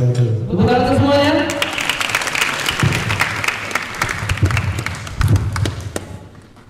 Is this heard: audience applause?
yes